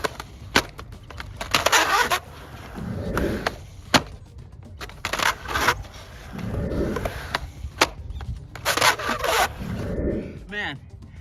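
Skateboard wheels and board rub and scrape on a ramp coping while doing slob pogo and frontside layback rock and roll tricks, with repeated rolling grinds and sharp wooden knocks in a loose rhythm.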